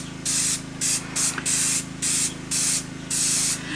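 Baking release spray hisses into a cake mould for a simple chocolate cake in six sharp, separate bursts, close and loud, with short pauses between them.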